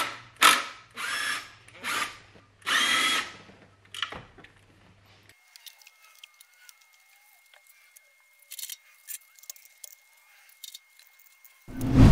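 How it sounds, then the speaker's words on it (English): A power tool undoes the clutch pressure plate bolts on a classic Saab 900. Several loud, close bursts of whirring come in quick succession, then light clicks and tool handling follow in near quiet. "we're going to undo these bolts and hopefully the whole unit comes out"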